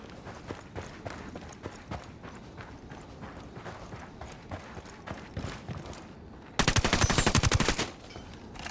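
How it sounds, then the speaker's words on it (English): Gunfire in the Ghost Recon Wildlands video game: a loud, rapid burst near the end cuts through a busy stretch of clattering, hoof-like footsteps and action noise. "That guy heard the shot."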